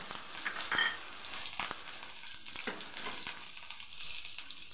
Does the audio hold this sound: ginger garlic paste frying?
yes